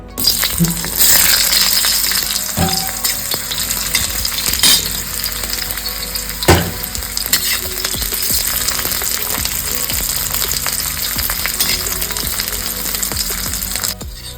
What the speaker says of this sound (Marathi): चला आता वाटण भाजून घेऊया।